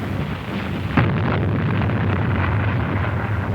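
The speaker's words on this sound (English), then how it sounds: "From Mount Suribachi, the Japanese poured their fire on the landing beaches below." Japanese artillery fire on the Iwo Jima landing beaches below Mount Suribachi, a sudden heavy blast followed by a sustained rumbling roar and wind-like noise in an old wartime recording, with no talking.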